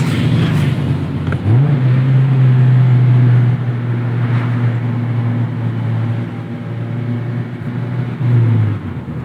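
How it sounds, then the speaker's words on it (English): A 2024 Mazda MX-5 Miata Club engine drones loudly at a steady pitch during canyon driving, rising briefly as it picks up speed, with road noise underneath. "The engine being super smooth, and I mean, it doesn't fuss around with being revved out"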